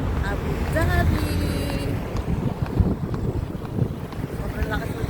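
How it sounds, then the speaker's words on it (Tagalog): Strong wind gusting outdoors in Abu Dhabi, a steady broadband rush buffeting the microphone with some distant background activity, while a voice talks over it in places. "Sobrang lakas ng hangin."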